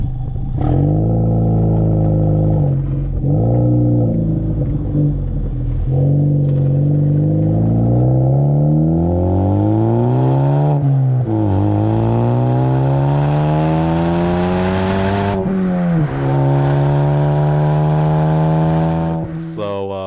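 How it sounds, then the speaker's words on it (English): Ford Focus ST fitted with a Ford Performance exhaust, revved repeatedly: a deep burbling idle rising into several loud, ripping climbs in pitch, each dropping back before the next surge, heard up close and alone. "It burbles. It's relatively tame. Like, if you just drive normally, it's not gonna be too loud. But when you're wide open throttle, you can really hear it rip."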